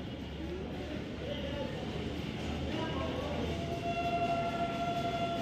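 A MEMU express train stands at Rambagh station in Prayagraj, its low rumbling hum steady and fairly faint, with a few sustained tonal whines rising above the station din and a voice speaking nearby.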